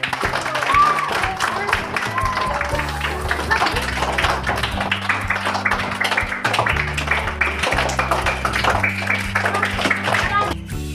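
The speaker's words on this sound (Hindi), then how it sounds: "चलो सब ताली बजाओ।" Children clap together at a Children's Day assembly, a patter of applause mixed with voices talking over it.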